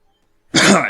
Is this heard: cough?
yes